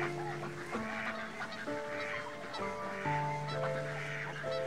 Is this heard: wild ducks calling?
yes